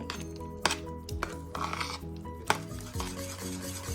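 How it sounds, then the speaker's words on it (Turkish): Stirring cheese with lemon juice for a lemon tart: a spoon scrapes and rubs against a bowl in soft, irregular strokes with a few sharper clinks, fairly close, over a steady low hum with no talking. "limon suyuyla peynirimizi karıştırıyoruz"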